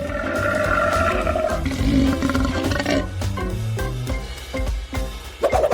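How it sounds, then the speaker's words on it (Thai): A loud, sustained wild-animal roar sound effect, like a big cat, lasting several seconds with rough, rumbling layers and a brief louder burst at the end. "นั่นเป็นเสียงคำรามที่น่าเกรงขามสุดๆ เลย"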